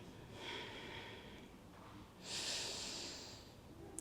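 Deep, full yogic breaths during a Surya Namaskar practice: a long airy inhale or exhale, a pause, then a stronger rushing breath, close and clear with no talking.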